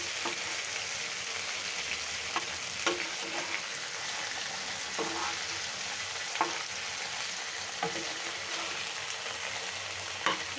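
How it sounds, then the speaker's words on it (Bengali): Chicken pieces fry steadily in hot oil for a tandoori-style snack, a continuous sizzle broken by sharp, scattered pops of spattering oil, close and alone with no talking. "বাবা তেল ছিটকে দিচ্ছে।"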